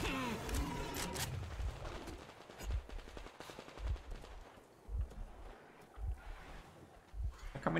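Automatic gunfire in the Metro Exodus shooter as a full magazine is emptied into an enemy: rapid bursts of shots, then a run of single heavy reports spaced about a second apart, loud and close, with no voices.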